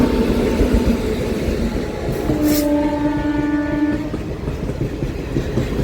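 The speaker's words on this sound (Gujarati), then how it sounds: "જો મસ્ત મજાની ટ્રેન આવી ગઈ છે." Train passing close by on a hot day, with a steady loud rumble and rattle of wagons throughout and a sustained horn blast sounding partway through.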